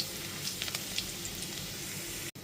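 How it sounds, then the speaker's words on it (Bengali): Chopped garlic sizzles steadily in oil in a pan for pabda fish curry, a continuous close crackle with a few light spoon scrapes and taps as it is stirred, no talk. "রসুন কুচিটা দিয়ে দেওয়ার পর একটুখানি নাড়াচাড়া করে নেব।"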